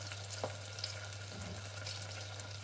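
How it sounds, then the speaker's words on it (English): Onion frying in a pan, a soft steady crackle beneath a constant low electrical hum, with a brief louder clink partway through. "And the rest of the onion goes in."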